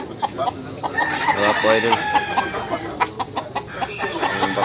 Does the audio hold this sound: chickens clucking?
yes